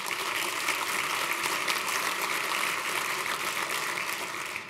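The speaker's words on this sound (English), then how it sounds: "give yourselves a round of applause" An audience of state legislators, governors and school officials applauds at a keynote lunch, a steady, even roar of many clapping hands, moderately loud and unbroken, with no talking.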